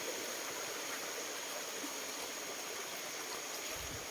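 River water rushes nearby in a steady, hissing wash, a continuous broad flow with a faint low rumble beneath and no voices.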